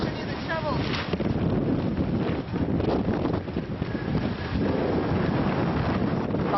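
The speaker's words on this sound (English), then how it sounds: "As predicted, 60-mile-an-hour gusts lashed the camp through the night." Strong wind gusting during an Arctic blizzard at a tented camp, heard as loud, continuous buffeting wind noise that rumbles against the microphone, with a voice speaking faintly beneath it.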